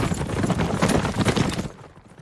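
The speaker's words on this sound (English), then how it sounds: "Mitsuhide, Kiki, ready the horses." Horse hooves clip-clop in a quick, uneven rhythm in an animated period drama, loud and close, then fade out abruptly near the end.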